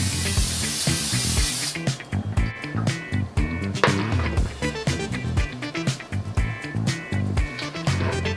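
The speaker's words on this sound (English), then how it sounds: "I'm gonna go ahead and lightly spray it with some pan spray." Cooking pan spray hisses onto a baking dish in one strong burst, followed by clattering kitchen handling and light bumps.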